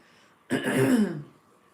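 A single harsh cough or throat-clearing burst from choking on pizza, close and loud, lasting under a second, then quiet.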